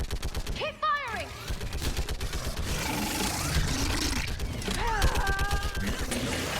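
Gunfire in Mass Effect 3 Legendary Edition on PS4: rapid repeated weapon fire and bursts running throughout, mixed with game effects and voices talking over the action.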